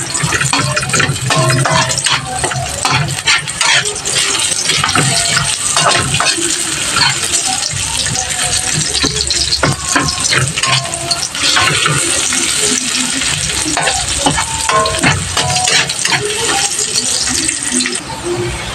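Sliced onion hits a hot pan of garlic and fries with a loud, steady, crackling sizzle, broken by sharp pops and occasional clatter of stirring throughout.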